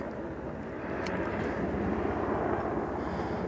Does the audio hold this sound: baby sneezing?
no